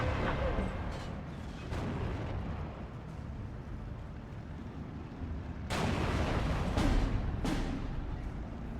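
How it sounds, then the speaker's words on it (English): 75mm howitzers fire in the Steel Division 2 video game, heavy booming blasts and distant rumbling explosions recurring over a dense battlefield din, with several sharp, louder impacts later on. "It's taken out anyways by the 75mm howitzers"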